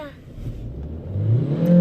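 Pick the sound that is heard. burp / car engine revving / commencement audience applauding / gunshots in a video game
car engine revving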